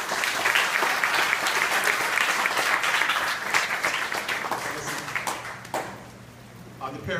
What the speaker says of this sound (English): Let's get a round of applause for this young man.